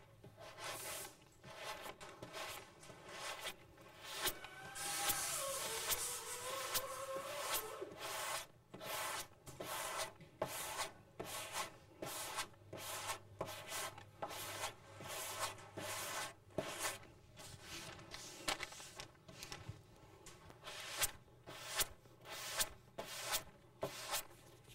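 Guide-coated car body panel being block sanded by hand, with a steady run of close, rasping back-and-forth strokes that grow choppier and more clipped toward the end, with no talking.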